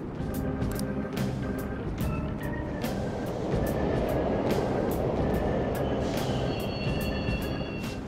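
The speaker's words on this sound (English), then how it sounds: "The trains are totally running!" A subway train rumbles steadily in the video game Persona 5 Royal, with rhythmic clacks of the wheels over rail joints and faint squealing tones rising near the end.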